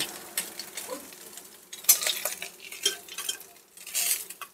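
Fried fish being lifted out of hot oil in a kadai, with scraping and clattering of a metal spatula against the pan amid steady sizzling, close and moderately loud.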